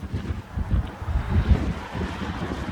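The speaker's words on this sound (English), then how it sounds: "This is quite a nice place, but it's quite windy." Gusty wind buffets the microphone with low, rumbling blasts, rising and falling over a continuous outdoor roar.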